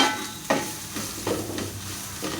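A prawn curry with chili powder is stirred in a pan: a soft background sizzle broken by a few distinct scraping strokes of a spoon against the cookware.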